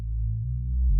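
Reese bass synth patch run through overdrive distortion in a VST plugin, a thick, buzzing low drone stepping through a few sustained notes, steady and loud with no voice.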